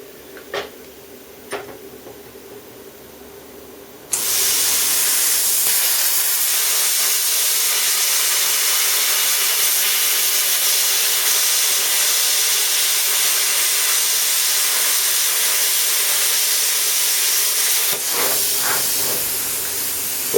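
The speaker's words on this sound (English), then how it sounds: "now we'll try and do a 1/2 inch hole over here somewhere with the plasma cutter" A plasma cutter cuts a half-inch bolt hole. A couple of quiet clicks come first, then a loud, steady rushing hiss starts abruptly and holds for about fourteen seconds before cutting off, followed by a few faint clicks.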